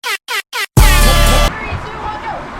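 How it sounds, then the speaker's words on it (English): Three short, loud air horn blasts sound in quick succession from loudspeakers at a waterslide park, followed by a longer blaring horn that cuts off into crowd noise. "Air horns blare from unseen speakers."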